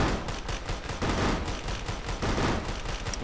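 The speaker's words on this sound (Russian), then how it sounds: "Первый выстрел в машину." Rapid bursts of gunfire from the Clone Armies tactical army shooter game, shots fired at a jeep, dense overlapping shots rattling continuously at steady loudness with no talking.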